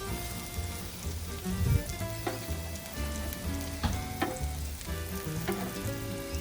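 Mushrooms frying in a pan for an English breakfast give a close, continuous sizzle broken by soft scrapes and taps as they are moved around, with no one speaking.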